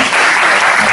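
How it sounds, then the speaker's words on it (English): Loud, dense applause from a crowd, steady clapping filling the whole second without a break. "Let's give them a round of applause."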